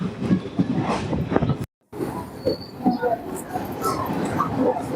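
A passenger train running from Silchar to Guwahati rumbles along with rhythmic wheel clatter and occasional squeals, heard from inside the carriage. A brief silent gap interrupts it, and people talk intermittently.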